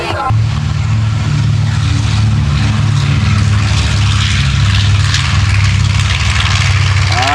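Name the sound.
B-25 Mitchell bomber flying at an airshow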